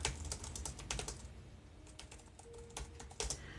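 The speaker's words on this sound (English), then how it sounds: "I want to use my new keyboard so bad." Rapid, irregular keystrokes on a new computer keyboard, close and fairly loud, with clustered bursts and short pauses across the whole stretch and no talking.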